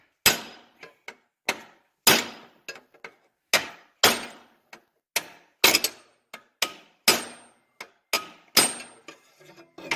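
Hammer blows tightening rivets on a 1940 Harley Davidson UH rear fender, a steady series of sharp, loud metallic strikes with short gaps between them, close by and alone.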